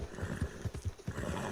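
In a Rockstar video game, a horse's hooves thud in an uneven series of low beats and a whinny rises among them, fairly faint and close, with no talking.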